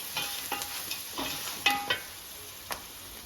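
Cabbage frying gently in a pan over low heat, with a steady soft sizzle broken by rhythmic spatula scrapes and taps roughly every half second, close and clear.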